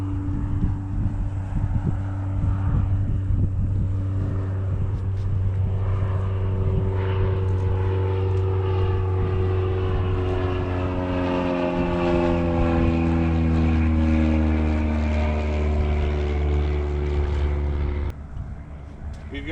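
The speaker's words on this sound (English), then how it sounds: "there's a plane coming down" A propeller plane passes low overhead near a shallow cold-water fishing spot, its droning engine loud throughout with pitch sliding downward as it goes by, and a voice speaks over it.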